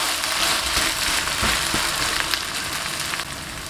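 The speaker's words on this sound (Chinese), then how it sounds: "继续煎两分钟" A noodle and egg pancake fries in a pan after being flipped, giving a steady, close, fairly loud sizzle with a few light crackles and no talk.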